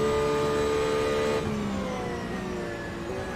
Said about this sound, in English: I like the sound of his Porsche.